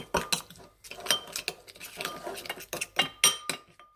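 A utensil clinks repeatedly against a pot or dish while salted food is mixed, quick irregular metallic taps close to the microphone.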